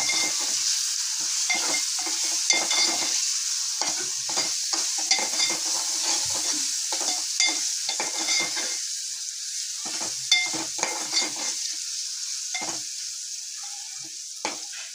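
Ginger, garlic, coriander, chilli and mint paste sizzles in hot oil while a spoon scrapes and stirs it again and again, a close, busy rhythm of frying and stirring with no voices.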